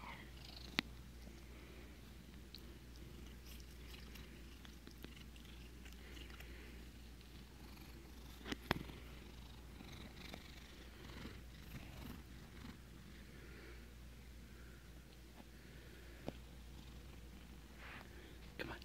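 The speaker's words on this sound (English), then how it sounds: "Who's a happy kitty?" A contented house cat purrs steadily and softly up close for a long stretch, with a low continuous rumble and occasional faint clicks.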